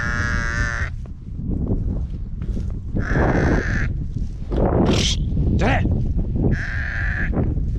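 Lambs on a farm bleat loudly and close by in several separate calls, with someone talking between them.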